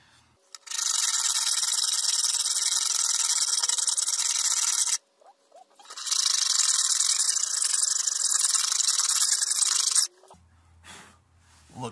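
Metal file rasping along the fret ends of a walnut dulcimer, two long continuous loud strokes of steady harsh scraping with a short pause between, close up with no talking.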